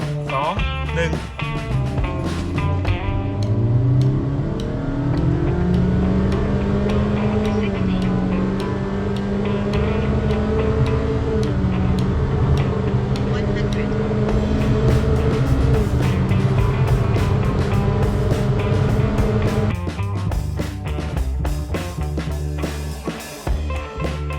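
A Honda WR-V car accelerates in D3 gear, its engine drone rising steadily in pitch over a rumbling road and cabin noise, loud and continuous throughout before easing near the end.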